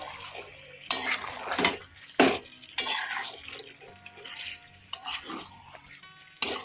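Chicken frying with mutton fat in a pan, metal utensil stirring and clanking against the pan in irregular bursts over a quiet sizzle, close and without speech.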